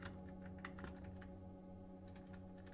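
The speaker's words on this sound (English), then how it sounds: "we can also increase the speed by holding FN and pressing the directional buttons" Keys on a Nedis gaming keyboard are pressed in quick, irregular clicks, quiet and close, over a steady background hum.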